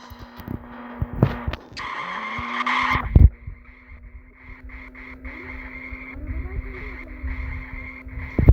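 A car in the Ice Scream video game drives with a steady engine hum and lets out a loud skidding screech partway through, with game sound effects around it.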